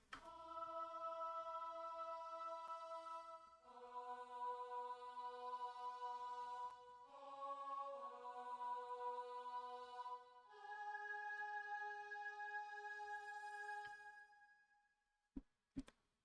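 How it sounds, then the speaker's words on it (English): Choir pad from the Expand synth in FL Studio, sustained layered vocal chords changing every few seconds in a slow progression, clean and alone, fading out before two short clicks at the end. "we have the choir, which I have from Expand"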